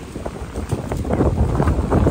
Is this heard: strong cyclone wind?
yes